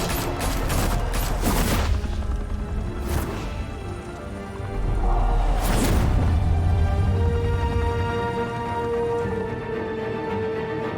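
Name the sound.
gunfire in Batman: The Telltale Series video game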